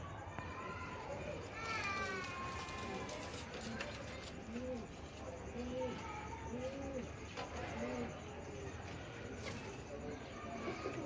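Breeder pigeons in a loft coo repeatedly in soft rising-falling phrases, several birds overlapping, with other bird calls and background chatter mixed in throughout.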